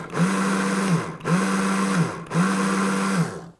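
A food processor chops cauliflower in three pulsed bursts, each a loud, close motor whir that spins up, holds steady for about a second, then winds down.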